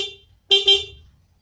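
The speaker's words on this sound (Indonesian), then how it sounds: "nah bunyi klakson." A motorcycle horn honks close by in a short burst with a slight double pulse, preceded by a fainter brief toot.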